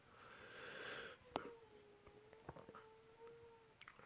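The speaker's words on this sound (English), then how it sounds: "sorry if you hear my cat meowing" A house cat meows and howls indoors in a long, wavering, drawn-out cry, faint and distant, with a few soft knocks and clicks around it.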